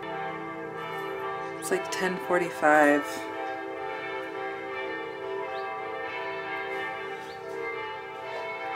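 Church bells in Germany ring on a Sunday morning, a continuous resonant peal with rich overlapping tones, while a person briefly talks over them.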